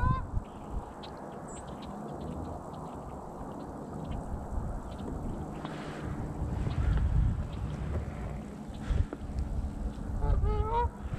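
Goose honking from a lake, near a canoe during a duck hunt on public land in Nebraska, with a few calls rising over steady outdoor ambience and low rumbling noise.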